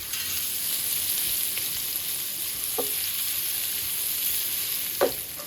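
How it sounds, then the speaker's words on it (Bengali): Green chilli, garlic and onion fry in hot oil as the filling for spring rolls, giving a constant close sizzling hiss with two brief stirring scrapes and no talk. "তেল দিলাম, তেল দেওয়ার পরে এখানে কাঁচামরিচ, রসুন আর পেঁয়াজ"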